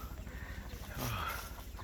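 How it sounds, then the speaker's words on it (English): Wild chickens cluck and call softly outdoors at MacRitchie Reservoir, with a murmur of background noise and a brief louder squawk midway. "Oh, these are wild chickens."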